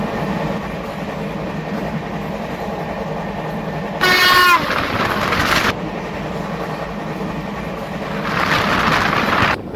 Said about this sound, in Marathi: आता थोड्याच वेळात झेलम एक्सप्रेसची क्रॉसिंग पाहायला मिळणार आहे